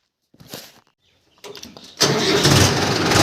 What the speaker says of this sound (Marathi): आता आपण निघालो ट्रॅक्टर घेऊन आपला